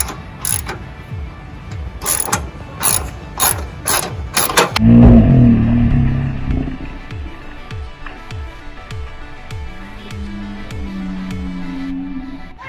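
A hand ratchet clicks in quick bursts on the last bolt holding a part to a 1985 C10 truck frame, then a heavier metallic clunk and rumble follow, with slower ratcheting clicks trailing off.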